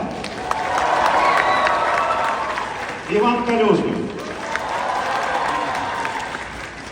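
Fans applauding and cheering Ukrainian national team footballers at a meet-and-greet, steady crowd clapping throughout with an announcer's voice calling out briefly in the middle.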